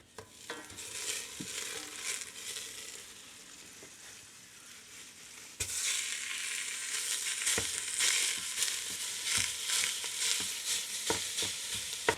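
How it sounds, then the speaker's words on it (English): Ground beef browns in a stainless steel pan with a steady broadband sizzle, louder in the second half, punctuated by scraping and stirring clicks of a utensil against the metal. "Our beef is browned. We've got lots of stuff stuck to the bottom."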